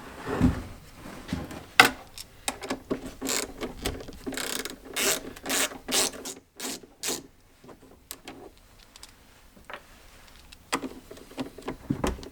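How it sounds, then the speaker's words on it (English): A socket spinner ratchet is worked on a bike in a garage, giving bursts of rapid clicking and whirring mechanical ticks, loud and close, with pauses between spins and quieter stretches toward the end. "socket spinner coming in handy once again"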